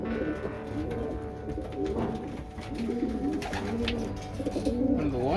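Racing pigeons in a loft coo repeatedly in soft, overlapping, warbling phrases, close and fairly quiet, with a faint background hum.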